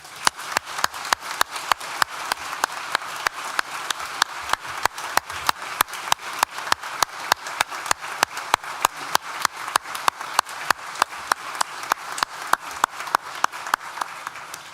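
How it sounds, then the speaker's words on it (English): A university hall audience applauds at a graduation ceremony, giving sustained, even clapping from many hands that continues steadily for the full stretch without a break. "Please join me in thanking them with a well-deserved round of applause."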